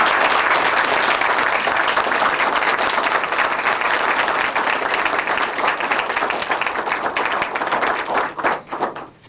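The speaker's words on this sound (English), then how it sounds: "let's all give these wonderful journalists a round of applause" Sustained audience applause at an Army journalism awards ceremony, a thick, even roar of many people clapping that holds steady before thinning into a few scattered claps and fading out.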